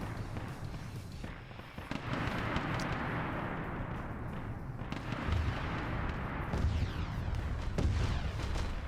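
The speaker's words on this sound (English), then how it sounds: "It's a ball that is literally loaded with nothing but plasma cannons that fire in every direction." Plasma cannons on a ball-shaped weapon firing in every direction in a video game: a dense, continuous barrage of crackling blasts and deep booms, with sharper bursts cutting through the sustained roar.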